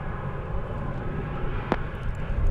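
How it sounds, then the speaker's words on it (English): An Embraer 145 LR jet airliner, Contour Aviation flight 3552, rumbles as a steady broad engine roar at an airport, with a brief sharp click partway through. "This is Contour Aviation. Flight 3552, it's an Embraer 145 LR."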